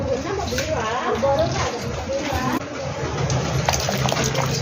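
Water gushes from a hose pipe into an LG washing machine drum during cleaning, a steady splashing, sloshing flow heard up close and loud throughout, with a person talking over it.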